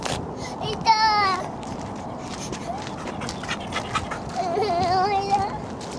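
A Bernese Mountain Dog at an empty dog run whines and whimpers in high, wavering cries, with panting and a person talking in the background.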